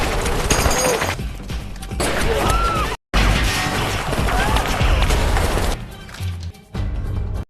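Loud bursts of gunfire from a military special forces shootout in a film, amid crashes and chaotic action noise, nearly continuous with a brief cut of silence and a short pause near the end.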